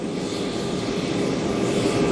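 The papal airplane carrying Pope Francis lands at an airport in Indonesia, with a steady, loud roar of aircraft engines that holds continuously throughout and no voices.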